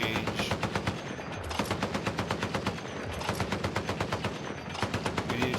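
Sustained automatic gunfire in Battlefield 6, a loud rapid stream of repeated shots with a few brief pauses, close and continuous throughout.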